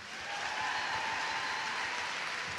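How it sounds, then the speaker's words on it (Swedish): A hall audience applauds a cosplay contestant at a Swedish cosplay championship, a steady dense patter of clapping from a crowd, heard at a moderate distance with no talk over it. "En varm applåd för Frida Svanberg."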